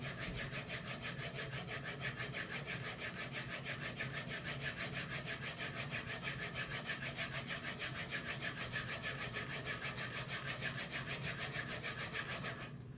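A block plane blade is rubbed back and forth on a sharpening stone, producing a steady, close scraping rasp with an even repeating stroke rhythm that stops abruptly at the end.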